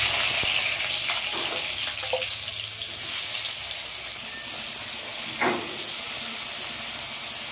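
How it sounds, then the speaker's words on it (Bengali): Small cubes of potato coated in salt and turmeric fry in mustard oil, a loud steady hiss of sizzling close by with a few faint utensil clicks, no talking. "বন্ধুরা আমার লাল লাল করে আলুগুলো ভাজা হয়ে গেছে।"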